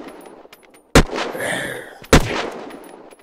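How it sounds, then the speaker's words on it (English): Two loud, sharp gunshots from a weapon in the zombie survival game Unturned land about a second apart, each followed by a brief ringing tail, with no talking over them. "Quite like the firing sound on this"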